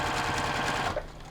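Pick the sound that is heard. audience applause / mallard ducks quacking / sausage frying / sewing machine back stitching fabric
sewing machine back stitching fabric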